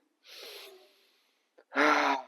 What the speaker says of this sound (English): Release sound when exhaling.